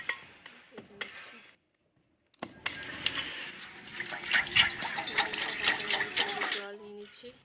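After a few faint clinks and a short silence, water pours steadily into a bowl in a kitchen while bael fruit preserve is being made, splashing and rising in a continuous stream.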